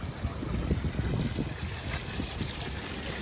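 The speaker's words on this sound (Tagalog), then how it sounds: "May fountain dito." Water splashing and trickling from the fountain in Stewart Park, downtown Kelowna, a steady broadband rush in an open outdoor space with no one speaking.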